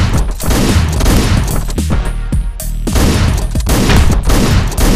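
Rapid, loud gunfire from the video game Hotline Miami, dense bursts of shots and booms packed together with no pauses, close and continuous throughout.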